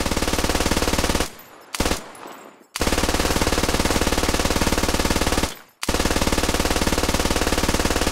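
Long, loud bursts of machine gun fire in the video game Squad, a rapid continuous rattle broken by two short pauses before resuming, close and with no talk.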